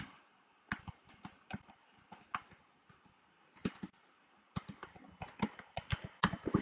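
Someone types text into Google Docs on a computer keyboard, making crisp, uneven key clicks in short bursts with brief pauses between them. The clicks sound close and fairly quiet, and no one speaks.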